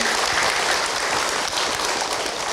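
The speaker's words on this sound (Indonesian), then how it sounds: "tepuk tangan sekali lagi Bu untuk Abi" Audience applause at an Islamic preaching talk: loud, dense, continuous clapping from a large crowd, close and sustained from start to finish without a voice.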